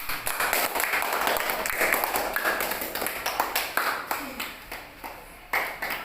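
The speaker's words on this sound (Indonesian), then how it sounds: "Ya, tepuk tangan buat kelompok 3." A classroom of students claps for a presenting group, a scattered run of close, sharp hand claps that thins out and tapers off toward the end.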